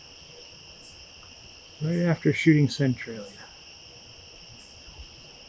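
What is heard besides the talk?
crickets chirping by a lake at a state park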